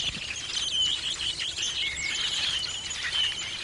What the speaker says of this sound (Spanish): Entre los pájaros cantores